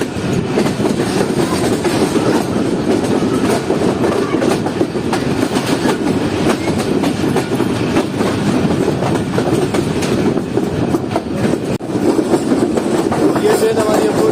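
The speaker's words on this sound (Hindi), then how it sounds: "ये ट्रेन हमारी अप्रोच कर रही है मल्ली रिवर ब्रिज पर" Pakistan Business Express train on the Karachi to Lahore route rolling onto the Malli river bridge, a loud, steady rumble with rhythmic clickety-clack of wheels on rails throughout, close and continuous.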